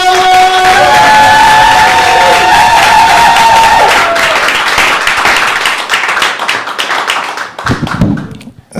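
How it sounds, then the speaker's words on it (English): Loud crowd applause and cheering at a live stand-up comedy open mic, a dense burst of clapping and whoops that swells then tapers off over several seconds. "Please give a loud round of applause for Dante"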